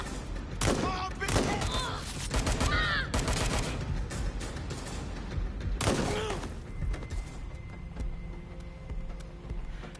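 Bursts of video game gunfire in Watch Dogs Legion, several loud clustered volleys of shots, mixed with shouting voices and other game sounds.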